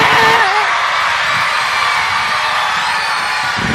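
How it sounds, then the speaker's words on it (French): A large audience claps and cheers loudly for a troupe of young actors with Down syndrome, a dense continuous wash of applause with whoops and shouts rising over it throughout. "Nous pouvons applaudir les jeunes de l'association Notre-Dame de l'Étoile."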